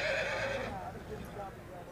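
A horse whinnies at a rural horse market, one short, fairly faint neigh at the start, followed by murmuring voices and low background noise.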